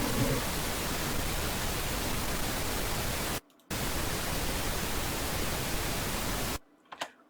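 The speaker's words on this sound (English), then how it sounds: "if I change to the pink noise, it won't react" Loud, steady broadband pink noise runs continuously, with a brief dropout midway and a cut near the end followed by a small click.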